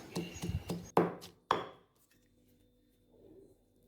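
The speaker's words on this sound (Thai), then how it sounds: "กระเทียมอีกประมาณ 5 กลีบครับ หอมแดงอีกประมาณ 5 หัวครับ โขลกต่อเลยครับ" A pestle pounds garlic cloves and shallots with salt in a mortar, giving a few sharp thuds in quick succession, then two heavier blows before it goes quiet.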